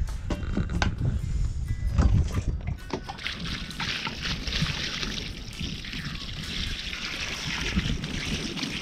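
Lake water poured out of a container for washing clothes outdoors, a steady splashing trickle and slosh lasting throughout, with a few brief knocks and handling noises mixed in.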